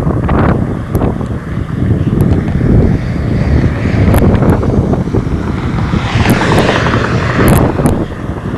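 Vehicles roll past over faulted highway pavement lined with paved inside and outside shoulders, making a loud, continuous broadband roar mixed with wind buffeting and scattered faint thumps.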